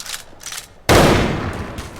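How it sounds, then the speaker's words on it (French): Gunfire in a multiplayer roleplay video game on a PublicRP server: one sudden, loud, sharp blast with a long echoing tail, after a few faint softer bursts. "il est en train de se demander pourquoi il y a des coups de feu"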